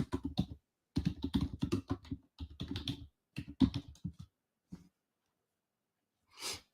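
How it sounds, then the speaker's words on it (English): Typing on a computer keyboard, close and fairly loud, in bursts of rapid keystrokes separated by brief pauses, ending with a short soft rustle. "Now I'm typing in our group."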